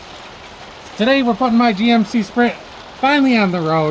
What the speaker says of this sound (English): Sorry about the rain sound in the background.